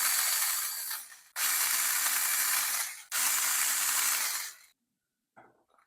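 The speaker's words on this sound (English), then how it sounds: "it's a pretty simple task, just removing all the screws and taking off these pieces" A small power driver whirs in three sustained bursts, backing screws out of the plastic wheel pieces on a RedCat Ascent 18 RC crawler, followed by faint clicks of parts being handled nearby.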